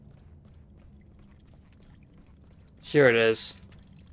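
Steady, faint splashing of water pouring from burst pipes in the video game Fall of Porcupine, running continuously under a short spoken phrase near the end.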